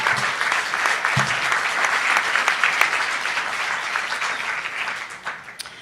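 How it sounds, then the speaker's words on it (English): An audience applauds staff of a crisis call line at an opioid epidemic event, a steady, dense round of clapping that holds at full strength for several seconds before thinning slightly at the end. "could you give them a round of applause?"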